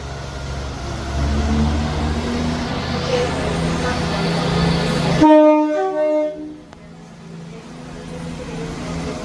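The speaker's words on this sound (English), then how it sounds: "Departing out now is the 12:08 ScotRail service from Edinburgh Waverley to Dundee." A ScotRail train pulls out of Edinburgh Gateway station with a loud, close rumble of engine and wheels, which cuts off abruptly partway through, leaving quieter tonal whine and faint station ambience.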